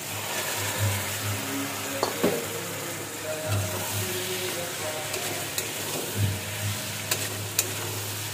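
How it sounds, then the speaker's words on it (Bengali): Boiled peas and kidney beans going into a sizzling masala in a pan, giving a steady low sizzle broken by repeated stirring scrapes and a few sharp clinks of a spoon against metal, close up and with no speech. "এখানে আমি আগের থেকে করে রাখা যে মটর আর রাজমাগুলো সিদ্ধ করে গেছিলাম সেটা অ্যাড করে দিচ্ছি।"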